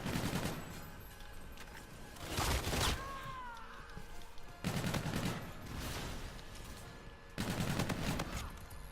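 Gunfire from a slow-firing supply drop weapon with a thermal sight in the game Call of Duty WWII: three loud, spaced bursts of shots a couple of seconds apart over quieter game ambience.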